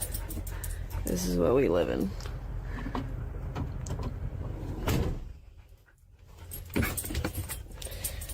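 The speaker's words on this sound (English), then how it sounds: "Oh, and there's a dog." A dog inside a lived-in van, heard in brief panting and whimpering noises while a person talks over it; a door or sliding panel thuds once partway through.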